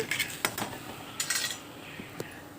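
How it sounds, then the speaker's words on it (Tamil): A metal spoon clinks and scrapes against a bowl while lemon juice is stirred into cooked rice, a few quick taps and scrapes close by, fairly quiet, with no talking. "கொஞ்சம் நல்லா கலக்கி விட்டுறலாம்."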